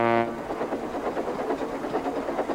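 Thomas the Tank Engine speeding across a level crossing: a brief whistle-like tone opens, then a steady, rhythmic clickety-clack of wheels on track continues at moderate loudness with no voices.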